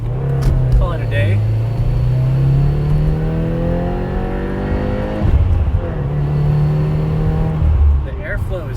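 A 2018 Subaru WRX engine with an aftermarket intake and TGV delete revs up and down nearby, the pitch climbing and dropping twice with a throaty, breathy intake growl.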